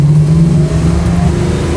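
A garage-built Plymouth Barracuda with a 440 cubic-inch engine revs loudly and steadily, a deep throbbing roar that holds close and strong throughout with no voices over it.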